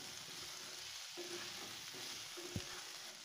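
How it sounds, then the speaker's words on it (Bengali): Chopped green chillies and turmeric frying in oil in a pan, giving a soft, low sizzle with a few faint scrapes and one knock of stirring. "হলুদ দিয়ে 1 মিনিটের মতন ভাজা ভাজা করে নিয়েছি।"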